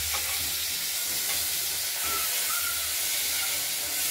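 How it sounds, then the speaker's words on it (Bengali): Tomato and boiled potatoes frying in oil in a pan for a rohu fish curry with potato, tomato and coriander, giving a steady close hiss and sizzle with faint stirring, no talking. "এরপর সেদ্ধ করে রাখা আলুগুলো দিয়ে দিলাম।"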